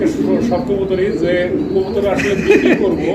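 Pigeons coo softly in a crowded pigeon farm pen, their low throaty calls layered continuously beneath steady nearby chatter from people talking.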